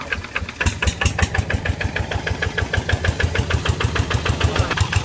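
A tractor engine, spun by hand to start rather than pulled, fires up and runs with a loud, steady rapid chugging beat and strong low thump, close by and alone.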